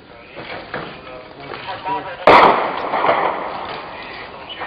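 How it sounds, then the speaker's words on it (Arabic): A mortar shell lands in the Jobar district of Damascus, a sudden loud blast that cuts through shouting voices and leaves a rumbling, noisy tail. "قصف على مدينة جابر"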